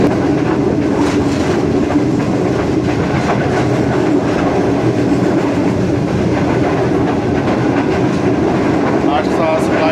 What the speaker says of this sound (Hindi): तो 5 किलोमीटर मेन लाइन 1 से अभी गुजर रही है जी ट्रेन हमारी।